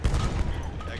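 Heavy gunfire and blasts in the Battlefield 1 video game, a loud, continuous barrage of shots aimed at a lighthouse during a St Quentin Scar conquest match, with voices talking over it.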